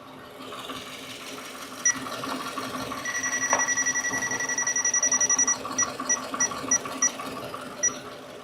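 A handheld CO2 leak detector used during a 2015 Subaru Forester engine inspection beeps, first in scattered single tones, then a rapid continuous chirping run, then spaced beeps again over low background hum.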